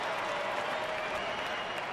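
Baseball stadium crowd at a Cubs–Diamondbacks game cheering and applauding, a steady dense wash of clapping and noise throughout.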